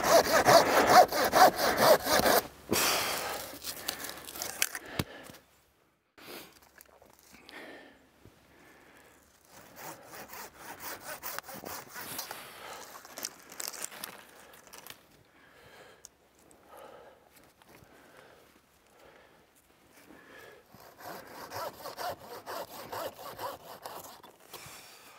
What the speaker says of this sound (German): Da haben wir zum Beispiel einen Todast, den schneiden wir runter.